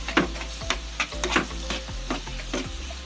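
Kangkong sautéing in a pan, stirred in a steady rhythm of scraping strokes roughly every half second over a continuous close sizzle, with no voices.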